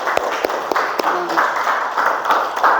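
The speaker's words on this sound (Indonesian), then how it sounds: "kasih aplaus dulu, Nak" Students applaud with a few scattered, sharp handclaps that fade into lighter patter beneath people talking.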